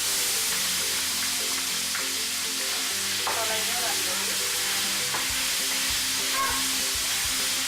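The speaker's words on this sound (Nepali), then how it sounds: "प्याजलाई हामी गोल्डन ब्राउन हुने बेलासम्म फ्राई गर्नेछौँ" Onion frying in hot oil in a pan with cumin, chili and bay leaf for a jackfruit curry, a steady close sizzle running throughout with occasional stirring scrapes and clinks.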